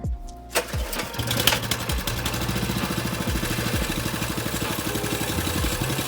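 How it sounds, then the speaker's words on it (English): A Massimo/Baja Warrior MB200 mini bike engine with its current exhaust catches after a brief start and settles into a steady, fairly loud, rapid putter at idle, heard close up with no talking. "I'm gonna show you guys what it sounds like with the current exhaust on it."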